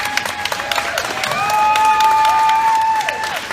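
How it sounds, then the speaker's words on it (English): Audience applause for Deb fills the room at a steady, moderate level, with scattered cheers and a sustained tonal whoop or whistle rising over the clapping midway through. "Can we get applause for Deb?"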